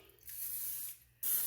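Butter-flavored cooking spray hisses from an aerosol can into a cake pan for a banana nut pound cake, two steady bursts about a second and a moment apart, close and fairly quiet with no talking.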